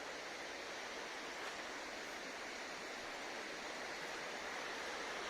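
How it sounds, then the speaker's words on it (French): A small stream flows with a steady, soft rushing of water, faint and even throughout, no voices. "Le bruit qu'on entend, c'est le petit ruisseau."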